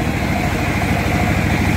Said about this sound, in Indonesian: Jadi mesin heler ini keliling.